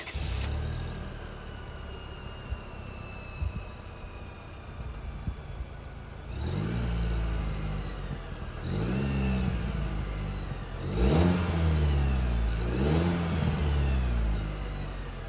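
A 2023 Chevy Silverado's 2.7-liter turbo four-cylinder engine idles at a low rumble through the exhaust, then revs up several times in rising and falling surges, loud and close, with no talking.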